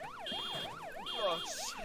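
Wailing electronic alarm sirens in the Stray Souls video game sweep up and down in a repeating pattern, heard loud and alone for under two seconds.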